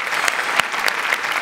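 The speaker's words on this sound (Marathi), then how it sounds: "जोरदार टाळ्या सगळ्यांसाठी" Audience applause on the stage of a Marathi comedy show after a performance: dense, steady clapping from a crowd with a few sharper claps standing out, loud and close, with no voices over it.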